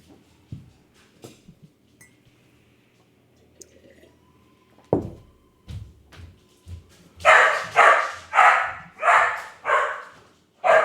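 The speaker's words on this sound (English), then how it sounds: "Yay, it's a doggy." A dog barks about five times in a quick, loud burst near the end, following a mostly quiet stretch with a few scattered clicks and knocks.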